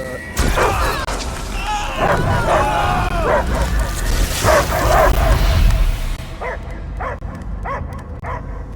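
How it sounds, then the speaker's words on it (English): A dog barks repeatedly in the video game Marvel's Guardians of the Galaxy, loud and close amid a busy mix of game sounds, with sharp separate barks near the end as the background thins. "I hear only barking."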